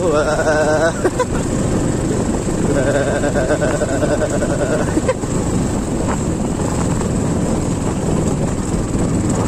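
A motorcycle engine drones continuously up close with a rough, steady rumble and shifting tone, as if heard while riding on a poor village road, accompanied by wind noise.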